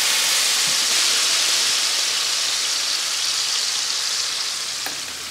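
Broccoli with red pepper flakes and salt sautéing in a pan for farfalle, a loud, dense, close-up sizzle holding steady before easing slightly at the end, with no talking.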